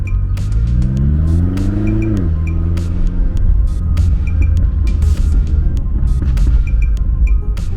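A 750 hp BMW X6M in sport mode pulls hard under acceleration, its loud engine note rising through a rev sweep, dropping at a shift, then roaring on with crackling exhaust pops, close and continuous.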